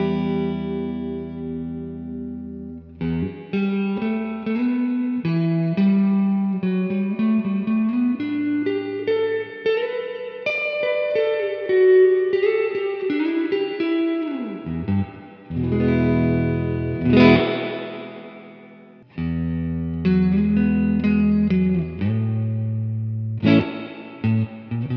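Electric guitar played through the spring reverb of a 1972 Fender Super Reverb amp, with sustained distorted chords and single-note lines washing into a long, echoing tail, loud and continuous, with brief gaps and no talking.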